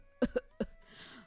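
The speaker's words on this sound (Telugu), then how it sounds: "దగ్గు వస్తుందా?" An elderly woman wrapped in a blanket, out in the cold wind, gives three sharp, close coughs in quick succession, followed by a faint rustle.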